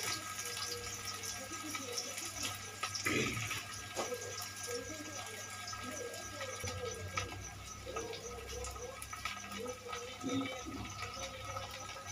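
Faint tap water runs in a kitchen sink while dishes are washed, a soft steady flow with occasional clinks and splashes, with someone talking quietly over it.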